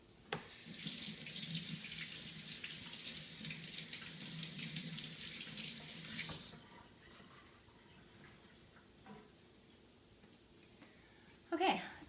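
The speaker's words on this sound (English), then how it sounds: "I'm going to give my hands a quick rinse." Kitchen tap running as hands are quickly rinsed, a steady rushing splash for about six seconds that then cuts off, followed by quiet with a brief clatter near the end.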